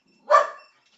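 A dog named Nugget gives a single sharp, fairly loud bark, close by and alone against silence.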